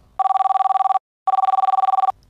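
A telephone bell rings in two rapid trilling bursts of about three-quarters of a second each, separated by a brief silence, loud, close and clean with nothing else heard.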